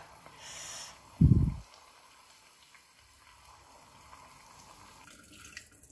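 Water is drained from a cooking pot of mustard greens, pouring and splashing briefly with a short heavy gush near the start, then quiet dripping and faint kitchen clatter.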